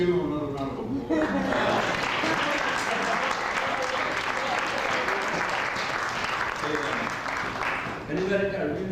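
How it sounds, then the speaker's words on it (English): An audience at a 1999 NYU reading bursts into a round of applause that swells and holds steady, then fades at the end as a voice speaks briefly near the start and finish. "Let's give him another round of applause."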